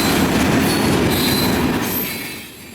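Florida East Coast yard job hauling a cut of rock hoppers and gondolas from Medley rumbles past close by, with steady loud rolling wheel noise and faint squeal, easing off slightly at the end.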